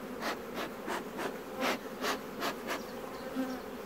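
Honey bees buzz around an opened beehive with a dense, close drone, and louder pulses come roughly every half second as individual bees pass near.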